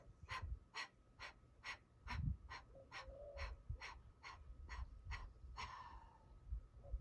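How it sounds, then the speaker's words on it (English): Yoga breath of fire: a rapid series of about a dozen sharp, evenly spaced nasal exhalations, close and fairly soft, pulsing in a steady rhythm with quiet gaps between. "Breath of fire out."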